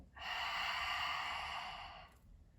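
Long, slow breathy exhale released after a held breath during a calming breathing exercise, a steady airy whoosh lasting about two seconds, close and soft, then fading to quiet.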